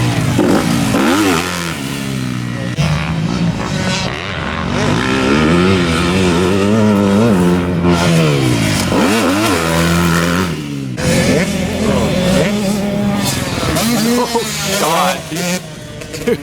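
A KTM youth dirt bike, an 85 or 65, revs and accelerates around the Perris MX motocross track, its engine rising and falling repeatedly, loud and sustained, while people talk over it.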